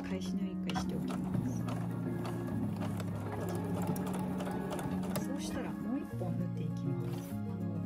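Sewing machine stitching the side of a tote bag made from tatami edging, a steady continuous mechanical whirr and rapid needle chatter throughout, close and fairly loud.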